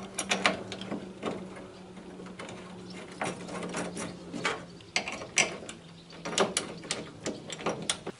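Car trunk hinge fittings on a Citroën Traction 11B being refastened with a hand tool: a series of close, sharp metallic ratcheting clicks and clanks in uneven bursts, with a low steady hum underneath.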